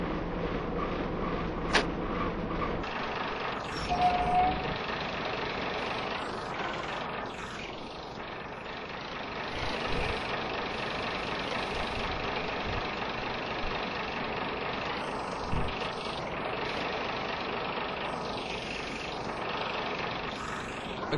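A Class 121 bubble car diesel railcar idles at a station platform, its engine giving a steady low rumble with a faint rhythmic knock that holds evenly throughout.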